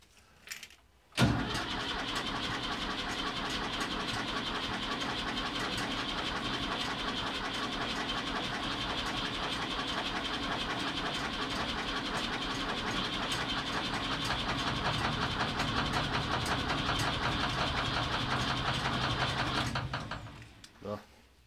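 The engine of a Ford 550 tractor cranks steadily for about eighteen seconds without catching, a loud, even churning from the starter that begins abruptly and stops at the end.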